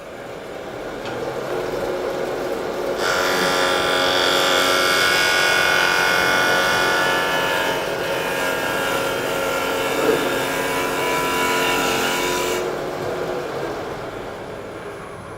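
A lathe turns a wooden winged bowl while a gouge makes smoothing cuts, a steady high whirring scrape that starts abruptly, holds for about ten seconds over the machine's hum and then stops.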